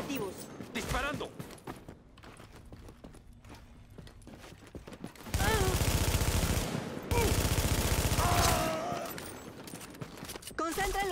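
Gunfire crackles in the video game The Division, with bursts of rapid automatic fire, sharp single shots and heavy sustained volleys as Spanish-speaking voices call out over the shooting.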